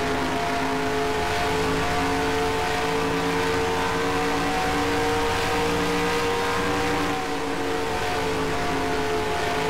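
Race car number 38 holds a loud, steady engine drone with a sustained, even pitch and no breaks, heard close and continuous throughout.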